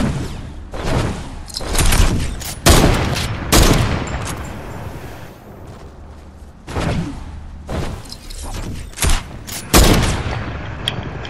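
Heavy sniper shots in the Fortnite video game ring out loud and near, roughly eight booming cracks in irregular bursts, each trailing into rumbling echo, with scattered thumps between them.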